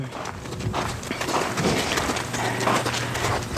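A horse moves loose at liberty, its hooves striking the ground in an uneven series of soft thuds amid faint outdoor ambience.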